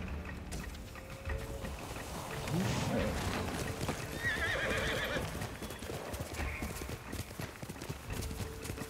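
A horse whinnies amid clip-clopping hooves in a Ghost of Tsushima game scene, with background rumble and ambient effects throughout.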